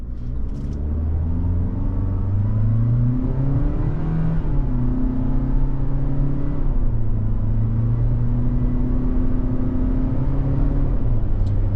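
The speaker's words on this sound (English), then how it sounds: "But now we're going to do a little takeoff, see how she does." A 2023 Toyota Corolla Cross LE AWD pulls away from a stop and builds speed gently, its engine a steady, loud rumble and whir heard from inside the cabin, rising in pitch through the gears.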